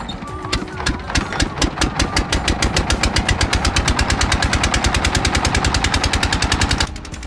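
A small passenger boat's engine chugs steadily in rapid, even pulses, loud and close, crossing a river at Susang Durgapur, running continuously before easing off at the end.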